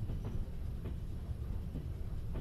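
A train rolls past in the Trans-Siberian Railway Simulator game: a steady, dense low rumble with faint rhythmic clacks every half second or so, and no voices over it.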